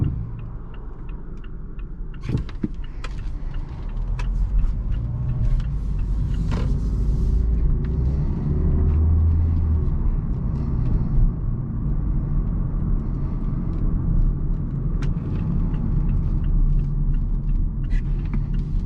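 2019 Mazda CX-3 GS on the move, a steady low engine and road rumble inside the cabin with occasional faint ticks and clicks, no talking.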